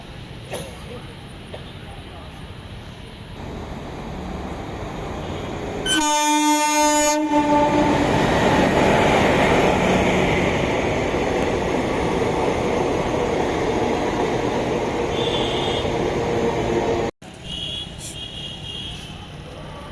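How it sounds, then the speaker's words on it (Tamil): Yercaud Express passenger train, the last departure from Chennai Central bound for Erode, sounds one loud, sustained horn blast, then a heavy, steady rumble as it rolls past close by for about ten seconds. "சென்னை சென்ட்ரல்லேருந்து டிபார்ட் ஆகிற லாஸ்ட் ட்ரெயின் ஈரோடு போகிற ஏற்காடு எக்ஸ்பிரஸ்"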